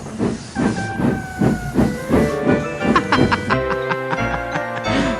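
Gordon, a steam locomotive from a railway remake, puffs away with about seven regular hissing chuffs, then a steady whistle-like tone sounds at the end, loud and close, with no talking.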